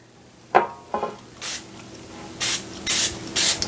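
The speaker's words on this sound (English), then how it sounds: "non-stick cooking spray. So I will use my Pam for that" Pam non-stick cooking spray hisses into a pan in short bursts, two quick sprays and then several longer ones spaced apart, close and clear.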